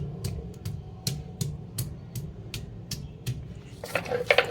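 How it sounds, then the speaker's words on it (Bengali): Ginger and green chillies being ground into a paste on a grinding stone, giving steady rhythmic scraping strokes about every half second, close and moderately loud, with a brief clatter at the end. "প্রথমে আদা আর কাঁচা লঙ্কা দিয়ে বেটে নেব।"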